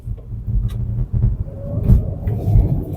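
A 2026 AION Hyptec HT rear-wheel-drive electric car driving in comfort mode, giving a steady low road and tire rumble with a faint rising whine, continuous and close inside the cabin.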